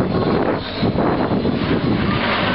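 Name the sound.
aerobatic aircraft performing a slow roll at an air show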